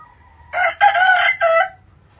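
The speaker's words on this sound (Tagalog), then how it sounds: "May edad na yung mga manok natin dito." A rooster crows loudly and close by, one long call in three drawn-out segments, with a faint cluck just before it.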